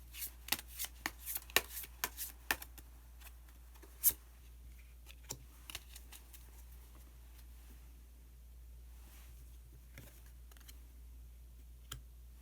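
Tarot cards shuffled and drawn in a quiet room: a burst of crisp riffling snaps and taps over the first few seconds, then scattered single card flicks and slaps, close and fairly soft, with no talking.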